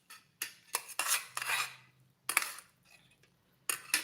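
A lightweight tin plate is handled at a meal, giving a few sharp metallic clinks and scrapes. Each is brief, close and fairly quiet, with short pauses between them and no talk.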